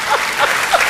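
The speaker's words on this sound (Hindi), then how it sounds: "ताली बजा सकते हैं।" Audience applause at a live Hindi poetry recital, a steady wash of many hands clapping throughout, loud and close, with no voices standing out.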